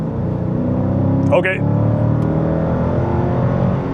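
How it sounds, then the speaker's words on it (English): A Dodge Challenger's engine hums in a low, steady drone under light throttle while the car cruises near 45 mph, heard from inside the cabin, with a brief spoken word partway through. "I'm just gonna give it a little bit of throttle, see how she does."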